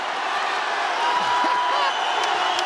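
A crowd at an Oktagon MMA fight roars and cheers steadily, a broad, sustained wash of voices filling the arena with a few louder whoops.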